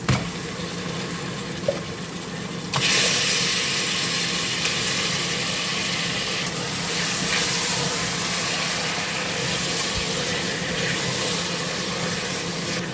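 Chicken and chillies sizzle in hot oil for a chicken biryani, a steady hiss that jumps sharply louder a few seconds in and then holds as a dense, close frying roar with no talking.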